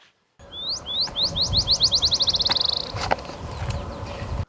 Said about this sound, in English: We got black-chinned sparrow, and black-chinned sparrow is typical of sort of the desert and lower chaparral, mixed chaparral